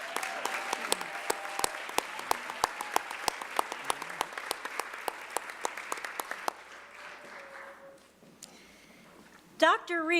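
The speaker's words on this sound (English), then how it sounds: "Please give them a round of applause as they leave the stage." Applause from the audience at a regional educators awards and scholarship ceremony, a steady run of dense clapping with sharp individual claps on top that thins out and fades toward the end.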